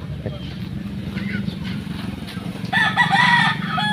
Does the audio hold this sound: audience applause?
no